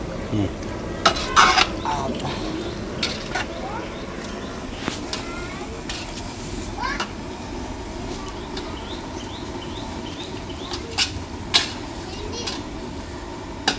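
Goat curry gets stirred in a metal pot, a spoon scraping and clinking against the sides in irregular knocks over a low bubbling sizzle, with people talking nearby.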